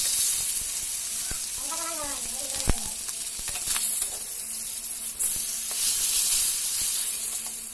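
Oil goes into a hot pan just emptied of fried pangas fish, giving a steady loud sizzle and hiss, with a brief voice-like sound and a sharp clatter partway through.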